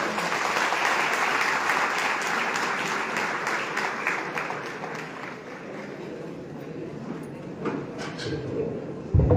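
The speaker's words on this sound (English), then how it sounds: "a huge round of applause" The audience at a pharmacy college celebration gives a long, sustained round of applause, a dense steady clatter of many hands that slowly thins out.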